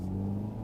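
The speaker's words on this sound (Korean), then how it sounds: "오, 휠스핀. 지금 에코 모드인데." A Hyundai i30 N Line hatchback in eco mode spins its wheels on an unpaved road, giving a brief, steady, loud low engine and road rumble.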